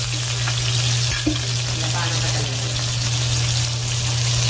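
Loud, steady sizzling of food frying in an oil-filled pan as it is turned to cook both sides, with a constant hiss, a low electrical hum, and a brief clatter of the utensil midway.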